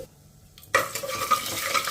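Tempering spices crackle in hot oil: mustard seeds, urad dal, coriander, fenugreek and cumin. After a quiet start, a loud sizzle bursts in and keeps up close, with light popping and faint clinks of a spoon against the pan.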